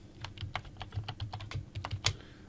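A password typed on a computer keyboard: a quick, steady run of close key clicks with a low hum beneath, no voices.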